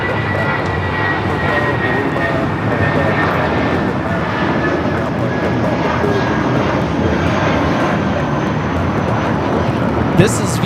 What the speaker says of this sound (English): This is Viva, Flight 511, taking off to Guadalajara on the A320.